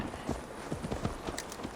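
Horse hooves clip-clop at a quick, steady trot in Assassin's Creed Valhalla, close and clear, with a faint wash of background ambience and no speech.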